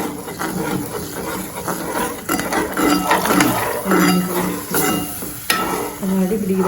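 A metal ladle stirring and scraping in a pan over a steady sizzle, with clanks and scrapes recurring throughout, close and fairly loud.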